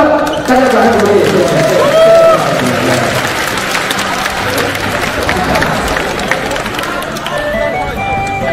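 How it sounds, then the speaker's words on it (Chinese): Crowd applause and cheering after a match between a PE teacher and a world champion, a sustained wash of clapping from many people with voices talking over it. "比赛结束，陈金强老师获胜，大家掌声鼓励。"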